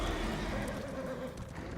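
Horse in Elder Scrolls Online, a brief neigh over a steady low rumble of hoofbeats, fairly loud and close.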